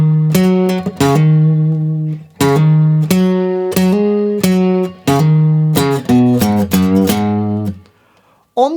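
A clean guitar plays the opening line of a piece from Red Dead Redemption, with ringing picked notes and hammer-ons in short phrases separated by brief pauses, close and clear with no voice over it.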